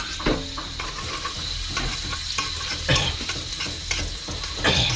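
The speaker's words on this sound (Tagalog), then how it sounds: "May ginisang bawang" Garlic sautés in a pan as part of a lobster dish, a close, continuous sizzle broken by repeated scraping stirs and light clinks of a utensil, with no talking.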